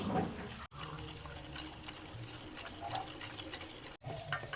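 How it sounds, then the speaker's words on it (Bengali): Sugar and oil being mixed together in a bowl for a vegetarian cake batter, a quiet, steady scraping and swishing with two brief pauses. "চিনি আর তেলটাকে কিছু সময় ভালো করে মিশিয়ে নিব।"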